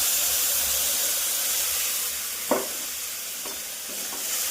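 Onions and spices fry in a pan as they are stirred, a steady broadband sizzle with a few brief scraping clinks of the spoon, fairly close and alone without talk.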